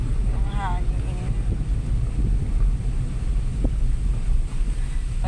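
Steady wind noise rumbles over the microphone on the Old ZigZag Road, a cold mountain road, with a brief voice early on and no pauses in the broad low roar.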